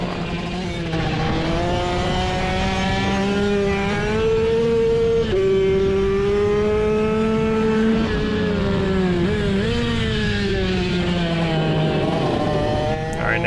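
Supermoto motorcycles, including a Honda 150R, race past on a track, one rider on a KX65 amid them; a steady, loud engine drone rises and falls in pitch as bikes rev and accelerate close by, with no talking.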